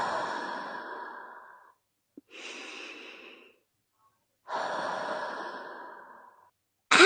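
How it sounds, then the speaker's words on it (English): Slow, deep breaths during a calm mindfulness exercise, three long airy inhales and exhales with short silent pauses between them, close and clear with no talking. "take long, slow, deep breaths"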